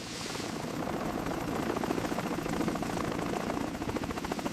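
Helicopter hovering during a sea rescue over a ship, a steady loud rotor chop with dense engine roar throughout, no voices.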